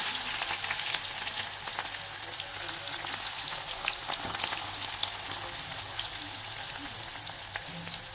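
Peanuts, cumin seeds and onion frying in oil in a pan, a steady soft sizzle with light crackles and occasional stirring scrapes, close and continuous with no talk.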